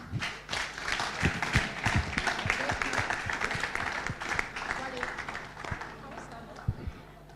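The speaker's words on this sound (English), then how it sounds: "A round of applause for them once again" Applause breaks out for panelists at the Lagos Digital Summit 2019, a busy, steady clapping from a large hall audience that gradually thins toward the end, with voices mixed in.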